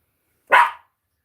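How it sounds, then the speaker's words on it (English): A dog barks once, loud and close, in a single sharp woof that dies away quickly and leaves silence around it. "I don't know why Wendy's barking right now"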